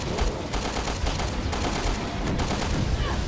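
Enemy gunfire in Resident Evil Revelations 2, a dense rattle of rapid shots crackling continuously and loudly across the whole stretch with no voices over it.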